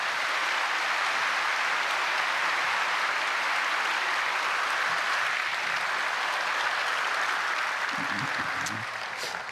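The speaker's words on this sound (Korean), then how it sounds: "나오실 때 박수로 환영하시면 고맙겠습니다." A church congregation at a Korean church service applauds in a dense, continuous wash to welcome the speaker to the pulpit, loud and sustained throughout, with a faint voice surfacing near the end.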